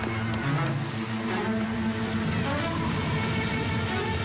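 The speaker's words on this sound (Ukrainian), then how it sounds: "Дощ!" Heavy rain pours steadily in the animated town of Pontypandy after a great fire, a dense, constant hiss of drops on surfaces. A faint tonal music bed plays underneath, and no voices are heard.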